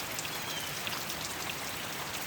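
Rain falling steadily, a soft uniform hiss dotted with light drop patter, even in level throughout and unaccompanied by any voice.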